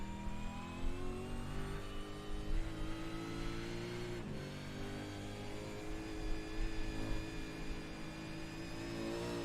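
Race car engine in the iRacing video game at Bathurst, a down-tuned Australian supercar, droning steadily and loudly with a dense, buzzy mid-pitched tone throughout, with a brief dip in pitch partway through.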